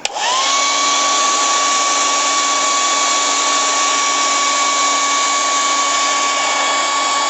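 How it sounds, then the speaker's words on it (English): A hair dryer switches on and runs in a steady, loud whirring roar with a constant high whine, uninterrupted throughout. "Now I'll throw the hair dryer on real quick."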